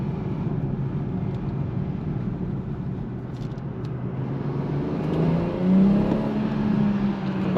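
A BMW 340i Touring xDrive with the 326 hp B58 engine accelerates, its steady engine drone swelling into a louder, rising pull near the end, heard from inside without talk.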